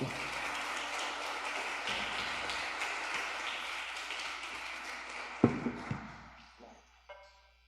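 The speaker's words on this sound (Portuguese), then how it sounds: "Dá uma salva de palmas para Jesus, irmãos" A church congregation applauds in a steady wash of clapping that tapers off toward the end, with a few louder knocks as it fades.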